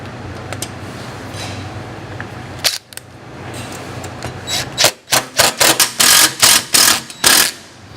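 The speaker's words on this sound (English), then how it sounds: "it's really just a matter of putting in these 4 screws" Stainless steel screws are driven into a Raptor lower replacement grille, starting with quiet handling noise and then a close run of rapid ratcheting power-driver bursts in a fast rhythm, with no talking.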